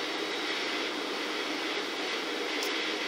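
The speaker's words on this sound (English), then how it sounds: "Private jet, see this? The private jet doesn't work." Private jet engine in Grand Theft Auto III: a steady, unbroken engine roar held at an even, loud level throughout, with no voices.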